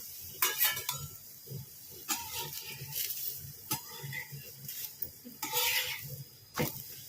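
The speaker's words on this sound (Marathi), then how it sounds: "आता आपला हा दुसरा पराठा लाटून तयार आहे मी टाकलेला आहे भाजायला" Soft sizzling from a paratha roasting with ghee on a thin griddle runs throughout, broken by several sharp clinks of utensils, with a voice speaking over it.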